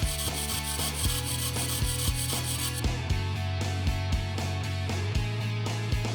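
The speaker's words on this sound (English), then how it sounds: "we present the actuator test, which smoothly and effortlessly moves the geometry through its range from the minimum to the maximum position." A turbocharger's variable geometry actuator sweeps from minimum to maximum position, giving a continuous close mechanical rubbing drone with regular clicks and tonal hum, steady and without speech.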